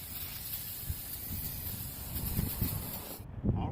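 Brake cleaner sprays from an aerosol can during rear brake work on a 2015 Chevrolet Malibu LT, a close, steady broadband hiss with faint clunks. It cuts off near the end.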